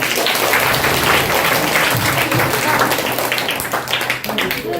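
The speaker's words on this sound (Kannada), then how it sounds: "ಜೋರ ಚಪ್ಪಾಳೆ ತಟ್ಟಿ" Loud, sustained applause from a room of schoolchildren at a government primary school event, dense clapping filling the whole stretch with a faint voice or two mixed in.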